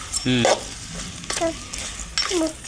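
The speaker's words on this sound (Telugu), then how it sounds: "ఇంకా ఫ్రై చేసుకోవాలి, ఇంకా ఫ్రై అవుతుంది." Country chicken fries in oil in a deep pan, hissing softly and steadily beneath short bursts of nearby voices talking.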